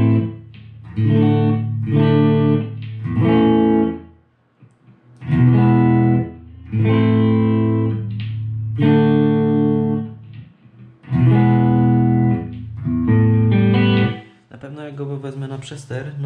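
Electric guitar played through a Vox Adio Air GT amp with overdrive distortion, loud and close, heavy sustained distorted chords in several bursts separated by short pauses, ending in a brighter, thinner passage.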